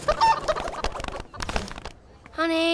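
Chickens clucking and squawking in a busy burst, then a sustained crowing or gobbling call at the end, close and fairly loud with no talk over it.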